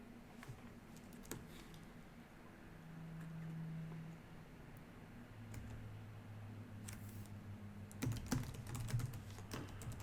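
Keyboard typing while editing JavaScript code, scattered keystrokes at first, then a faster flurry of clicks toward the end over a low steady hum.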